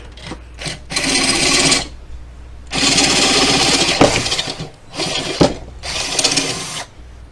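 A power drill bores a hole out to 1/2 inch for a grommet, cutting in several loud grinding bursts of a second or two each, separated by brief pauses with small clunks, close up and alone.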